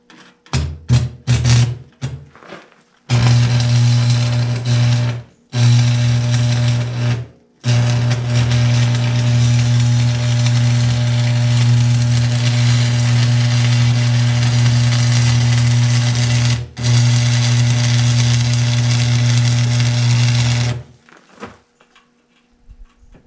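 Stick welding with cheap rods on a shop site prep job gives a steady, loud crackling buzz in long runs. A few short starts come first and the arc breaks off briefly between the stretches.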